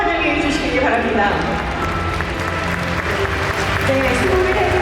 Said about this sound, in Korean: 세 분이 인사를 드릴 때 뜨거운 박수로 환영해 주시기 바랍니다